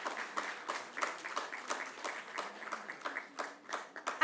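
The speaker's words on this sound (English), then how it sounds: "Let's give a huge round of applause to them as well." An audience gives a round of applause for Radio4Child Awards winners, a quiet, dense patter of many hands clapping at a distance that keeps going steadily for several seconds.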